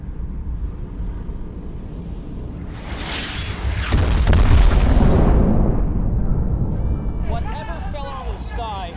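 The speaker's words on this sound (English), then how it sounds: "It sounded like several sonic booms" Several sonic booms from something falling from the sky in a Transformers teaser trailer build into a loud, sustained roaring rumble. Thuddy booms peak midway, then fade as a voice speaks over the tail.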